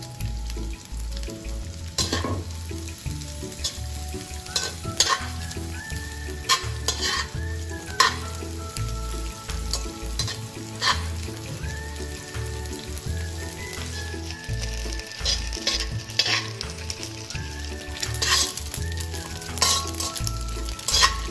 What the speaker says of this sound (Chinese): 炒干后的江鱼子倒入一点食用油，在中火油炸至香脆。